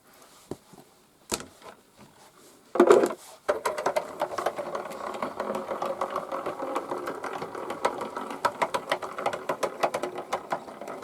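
A die-cutting machine feeds strip dies through with a rapid, rhythmic mechanical clatter, preceded by a few isolated clicks and a brief louder grinding burst, then running steadily at close range.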